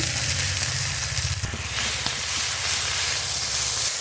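Onion, ginger-garlic paste, coriander, cumin and dried red chilli paste frying in a pan, a loud, dense, continuous sizzle with a constant hiss, close up and without talk.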